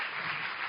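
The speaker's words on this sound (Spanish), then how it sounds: "Podéis aplaudir si queréis" A brief burst of audience applause at a talk, dense and steady clapping heard alone for under a second at moderate loudness.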